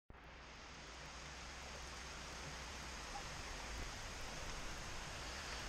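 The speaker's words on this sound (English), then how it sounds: "Damn this rain." Steady, dense rainfall hisses continuously throughout on a cycling road ride, an even wash of broadband noise with no breaks and no voices.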